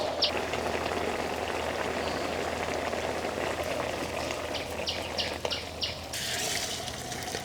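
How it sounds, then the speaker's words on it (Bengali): A pabda fish curry with okra and pointed gourd bubbles steadily in a pot while being cooked in a village. Birds chirp in the background, and a brief louder burst comes near the end. "বলক উঠে গেছে তরকারিতে এখনই আমরা তরকারি নামিয়ে ফেলব"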